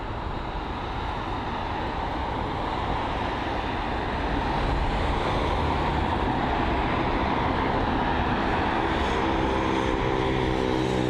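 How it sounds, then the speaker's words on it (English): An Air France Airbus A220 just in from Paris CDG taxis at London Heathrow, its engines giving a steady, moderately loud whine and rumble that builds slightly as the jet rolls off the taxiway. "the Air France A220, which has just arrived from Paris CDG, was holding on the taxiway for quite a while, but he is moving now."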